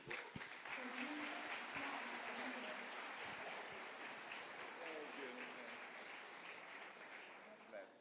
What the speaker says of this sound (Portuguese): vamos receber o pastor Edilio com um carinhoso aplauso